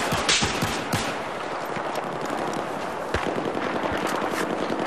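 Pistol shots in a shooter video game against a sniper, rapid scattered cracks and pops over a dense noisy battle ambience, loud and close, continuing throughout.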